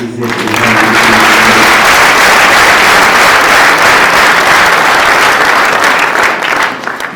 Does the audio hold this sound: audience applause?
yes